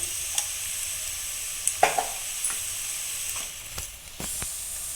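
Spine gourd curry fries in a pan, a soft steady sizzle broken by a few scraping stirs of a spoon, close and quiet with no talking.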